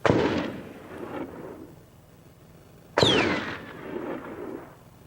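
Two loud gunshots from people firing guns nearby, the first near the start and the second at about three seconds, each a sharp crack followed by a long rolling echo. No one speaks.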